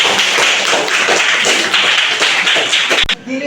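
Students in a classroom clap together in a loud, close, continuous flurry of hand claps that cuts off sharply near the end, followed by a brief quiet tail.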